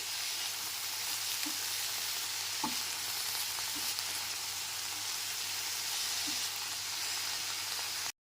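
Vegetables with dalia sizzle steadily in a pan, seasoned with salt and turmeric, giving a constant close hiss with a few soft pops and taps of a spoon, no voices.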